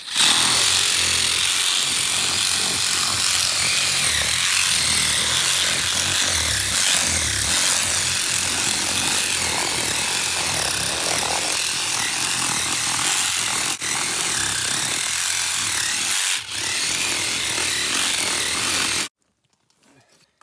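A reciprocating saw cuts through a moose carcass during field dressing in Alaska, giving a loud, continuous buzzing rasp close by that runs steadily for most of the stretch before stopping abruptly.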